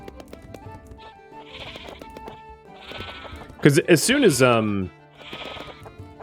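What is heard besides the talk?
sheep bleating in the video game Clanfolk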